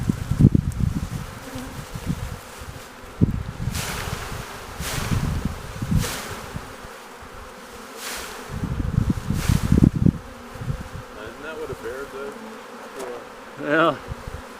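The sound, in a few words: honey bee swarm buzzing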